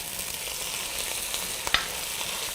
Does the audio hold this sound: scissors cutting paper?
no